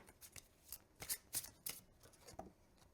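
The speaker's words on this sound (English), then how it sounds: "I swear I'm genuinely shuffling these" Tarot cards are shuffled in quick bursts of riffling and slapping, a run of sharp papery flutters spread across a few seconds, close and fairly quiet.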